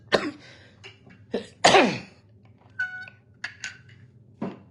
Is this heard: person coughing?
yes